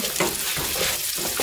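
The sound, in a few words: meat splattering while frying in pot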